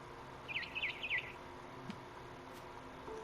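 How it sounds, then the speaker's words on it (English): Barn swallow chirps from the game What Remains of Edith Finch: a quick run of four bright, high tweets close together, clear against a soft ambient background, with no talking. "Then I heard chirping outside my window."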